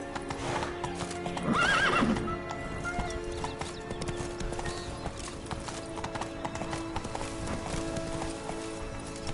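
A horse neighs once near the start over a steady run of hoof clip-clop while riding through the Witcher 3 game world, with faint ambient layers beneath.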